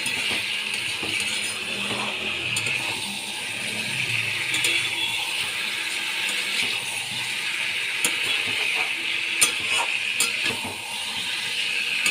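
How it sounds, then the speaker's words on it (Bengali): Potatoes for aloo dum being stirred and fried in a pan, a steady sizzling hiss with scattered metallic scrapes and clinks from the spoon, continuous and moderately loud throughout with no talking. "আলুগুলোকে দিয়ে এবার ভালো করে মিশিয়ে নিতে হবে আর ভালো করে কষিয়ে নিতে হবে"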